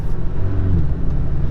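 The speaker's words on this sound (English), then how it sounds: "Sport mode, exhaust valves automatically open in sport mode." A Porsche 718 Cayman S in sport mode, with its exhaust valves open, gives a loud, steady, deep engine rumble from inside the car, with no talking.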